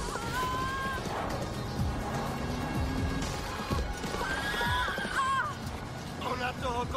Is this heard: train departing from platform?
no